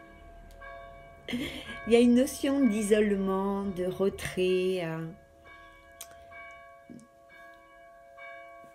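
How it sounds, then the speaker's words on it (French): Church bells ring with a steady sustained tone under someone speaking French, the bell resonance lingering faintly after her voice stops. "il y a les cloches qui sonnent"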